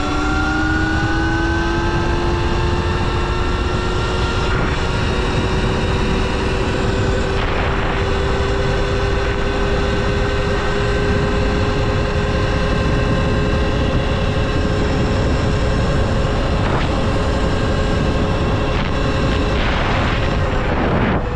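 A Torp TC500 Sur-Ron electric dirt bike runs flat out at top speed, its motor giving a loud, steady rising whine over heavy wind roar that stays constant throughout.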